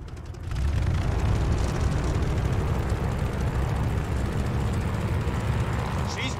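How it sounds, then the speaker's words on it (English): A propeller aircraft engine running up in the Call of Duty Vanguard video game, a loud, steady droning roar that builds at the start and then holds continuously. "do an engine run up. Make sure she doesn't blow out."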